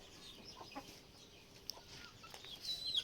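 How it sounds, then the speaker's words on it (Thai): A fighting-cock breed hen clucks softly in a few brief, quiet calls over a low background hiss, with a slightly louder cluck near the end. "อันนี้ก็แม่ไก่ไฮไลท์เหมือนกันสวยไหมครับ"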